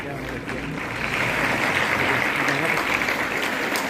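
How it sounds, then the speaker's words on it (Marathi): Applause at a school National Mathematics Day event honouring the chief guest, a crowd of children clapping steadily and rising louder after the first second, with a voice speaking over it. "PS माळी सरांसाठी टाळ्या."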